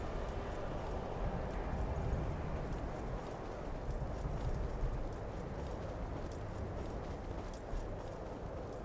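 Steady rhythmic hoofbeats of a galloping horse in the video game Skyrim drum on continuously, fairly quiet and even, with no voices.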